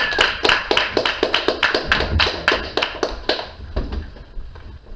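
Audience applause welcoming a performer, Malika, onto a stage: sharp, distinct claps in a quick uneven rhythm, close and fairly loud, thinning toward the end.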